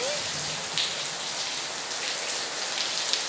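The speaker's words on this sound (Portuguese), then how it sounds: "essa chuva abençoada, bem uma chuva muito forte" Heavy rain pours steadily, a dense even hiss of drops beating on surfaces nearby, with a few faint voices and small noises at the start.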